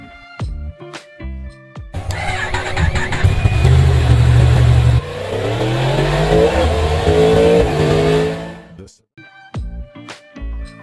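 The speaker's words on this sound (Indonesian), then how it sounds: "Suara yang dihasilkan dari intake dan knalpot dari sebuah motor" A Yamaha MT-10 motorcycle revs hard, its intake and exhaust roaring up and falling in loud, close surges, with sharp clicking noises before and after the revs.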